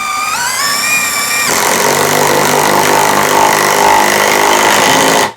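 A power tool runs continuously, driving a bolt into wood through a Gator Grip universal socket, its motor whine rising and holding steady at close range for several seconds before cutting off abruptly.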